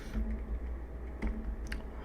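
Someone types in short, scattered bursts on a computer keyboard, producing a few soft, close clicks and ticks over a quiet, low background hum.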